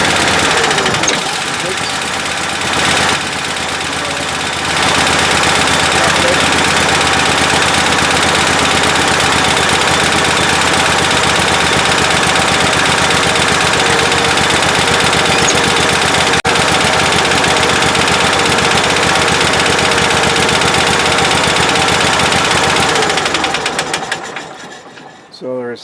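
An Exmark Lazer Z riding mower engine idles with the parking brake set, a loud steady close rumble with a rapid vibrating chatter that runs unchanged for about twenty-five seconds.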